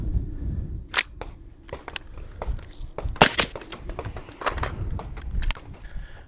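A suppressed hog hunting rifle fires several sharp, close cracks at irregular intervals, with mechanical clicks and handling noise between shots.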